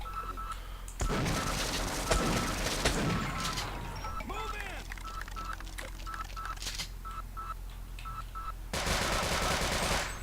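Gunfire in a multiplayer shooter video game, with rapid bursts of automatic shots and scattered single cracks over a steady noisy backdrop, fairly loud and continuous, with game sound effects mixed in.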